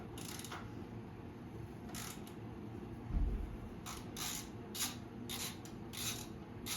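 Lower fork bolts on a sportbike are loosened one leg at a time, giving a series of short metallic ratcheting bursts in quick clusters, close and fairly quiet against a low background hum.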